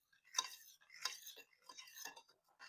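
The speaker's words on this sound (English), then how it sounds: "now mix that together really well, because we want to mix our dry ingredients" Dry ingredients for no-bake cookies are stirred together in a bowl. A utensil makes soft, rhythmic scraping strokes, roughly two per second, close by and quiet, with no voice over them.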